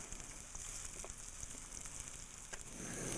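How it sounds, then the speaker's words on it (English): Sliced red onion sautéing in a skillet of heated olive oil on a stove gives a soft, steady sizzle, faint and continuous, with no talking. "you put sliced red onion into a skillet of heated olive oil, which is on your other stove. And then you just saute until it's clear"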